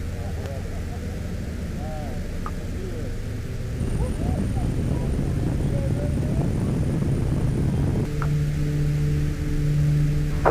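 Cockpit sound of a Beechcraft King Air C90 turboprop on its takeoff run for a skydiving flight, a steady loud engine drone that swells as power rises, with crew voices over the intercom.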